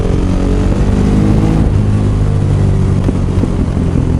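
Supermoto motorcycle being ridden, its engine a steady loud drone with layered harmonics and slight rises in pitch, close and continuous throughout with no talk.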